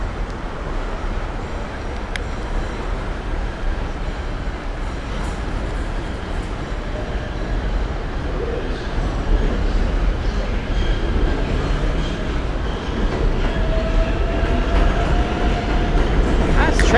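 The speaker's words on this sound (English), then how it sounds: "This train's not super loud, though." An elevated subway train rumbles past along tracks in New York City, a steady broad roar with faint wheel clatter that slowly swells louder, heard from street level with no talking.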